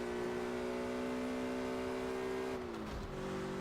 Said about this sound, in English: The car sounds in this game are also something that needs or leaves something to be desired.